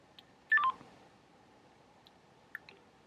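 An old Get It Now mobile phone gives a quick run of two or three keypad beeps, followed by faint clicks and a small blip later, in an otherwise quiet room.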